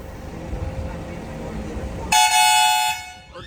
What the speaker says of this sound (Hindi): हॉर्न पे हॉर्न बजा रहे हैं